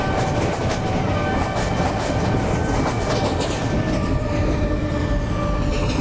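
A fast local train rushes past on a Mumbai suburban line in Train Simulator, a loud, continuous rumble of wheels with rhythmic clickety-clack and a faint squeal, with no talking over it.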